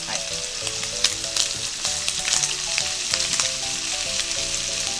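Bacon sizzles and spits in a pot as fat renders out for cabbage soup, a continuous close crackling fry with occasional stirring scrapes and pops.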